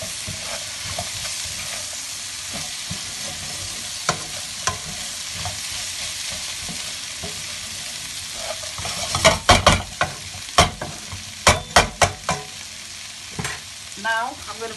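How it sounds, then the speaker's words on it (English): Okra frying in a pan with a constant soft sizzle, while a spoon stirs and scrapes, the scrapes growing louder and more frequent toward the end. "Give it a good stir."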